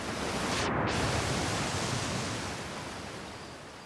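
A waterfall in the video game Outer Wilds rushes as a dense, steady roar of broadband water noise, loud and continuous, slowly easing slightly in volume.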